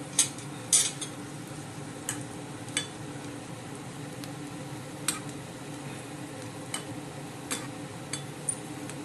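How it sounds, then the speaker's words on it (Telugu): Dried onion vadiyalu frying in oil, a steady low sizzle with regular light clinks of a ladle stirring in the pan, fairly close and without speech. "కొంచెం జాగ్రత్తగా వేయించుకోవాలండి ఈ వడియాలు మాత్రం బాగా ఎండిపోయాయి కదా తొందరగా వేగిపోతుంది అనమాట"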